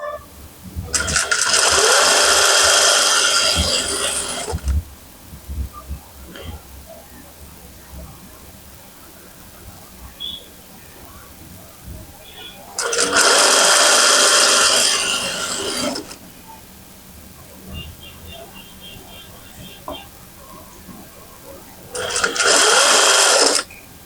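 A sewing machine stitches palazzo pants with elastic waist in three loud sustained bursts of rapid whirring, separated by quieter pauses with faint handling sounds and some talk.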